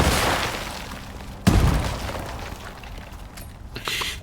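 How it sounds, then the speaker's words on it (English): A grenade explodes with a sharp, loud boom in the survival game Icarus, followed by a rumbling decay, with other lighter bangs and clatter of gunfire with explosive rounds around it. "I'm throwing a grenade here."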